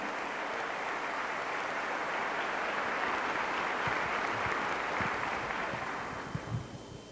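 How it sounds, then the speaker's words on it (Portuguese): Audience applause at a Catholic talk, a sustained wash of many hands clapping that stays even and fades out toward the end. "Aplaudir essa palavra, esse roteiro de cura."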